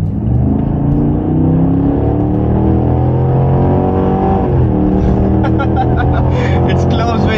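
Three SUVs, a 2023 Range Rover, Lexus LX600 and Cadillac Escalade, drag racing side by side with loud engines revving and climbing through gears, rising pitches sweeping upward continuously.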